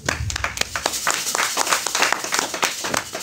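A church congregation applauds at a service, dense steady clapping from many hands filling the space for a few seconds, loud and close, with no voices standing out.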